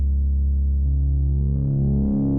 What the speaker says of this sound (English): up through sort of normal tones